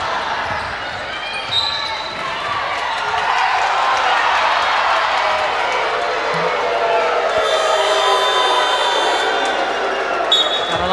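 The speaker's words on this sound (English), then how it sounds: "A lot of booing from the crowd out there on that call." A crowd booing a referee's call at a women's senior basketball final, a broad sustained wash of many voices swelling over several seconds, with a commentator talking over it and a ball bouncing nearby.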